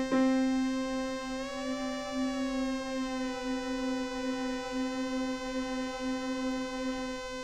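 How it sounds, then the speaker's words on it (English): A single sustained synthesizer note played from middle C on a keyboard holds for several seconds, its pitch gliding slightly upward early on before settling into a steady, rich harmonic tone, fairly quiet and alone. "I'm going to hit a key on the piano keyboard, middle C"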